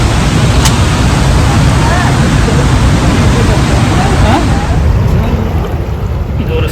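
Rushing water at the Rhine Falls waterfall, a loud, unbroken roar of churning water with heavy wind buffeting the microphone throughout, recorded close to the falls from a boat.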